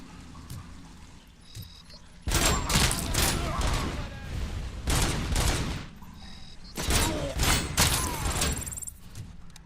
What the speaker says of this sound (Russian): Ну, так ее гранатой разорвало.